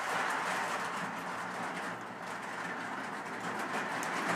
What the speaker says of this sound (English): Now, as we stop here with the train, the other train.